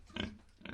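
A village pig kept in a family yard gives two short grunting oinks, close and soft, a quick pair of snorts with a short gap between them.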